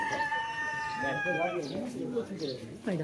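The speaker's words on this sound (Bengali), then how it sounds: "মোরগ চিৎকার করছে, মোরগের আওয়াজ।" A rooster crows in a long drawn-out call at a rural spot near Kashi Dham, with people talking over it and the bird clucking faintly afterward.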